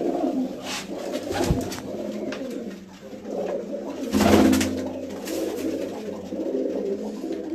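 A flock of pigeons on a rooftop loft coos in continuous low, throaty calls, close and fairly loud, with an occasional flutter and no talk.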